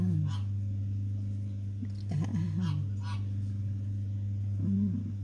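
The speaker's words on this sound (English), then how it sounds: "What are these big guys called? The Peking geese." Peking geese at a lake honk a few times in short bursts over a steady low engine-like hum, with voices chatting nearby.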